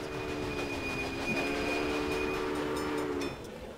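A train rolls along in the railway simulation game Railway Empire. A steady rumbling hum with a held horn-like tone lasts about three seconds, then cuts off abruptly and leaves a quieter background.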